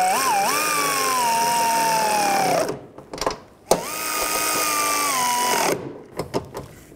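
Power tool running in two sustained whining bursts of about two and a half seconds each, pitch sagging under load, tightening the nuts on a front strut mount of a 2004-2010 BMW X3, with brief clunks between and no talk.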